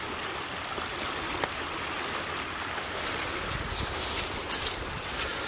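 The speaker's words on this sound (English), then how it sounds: "Water swift through this little section here." Swift water rushing through a narrow section of Heron Creek at Harrison Lake National Fish Hatchery in Charles City, Virginia, a steady broadband flow that is close and continuous with some wind buffeting the microphone.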